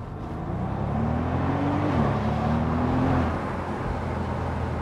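A Maybach S 650 Cabriolet accelerates hard, its engine note rising steadily in pitch and loudness for a couple of seconds before easing off, heard from inside the car without talk.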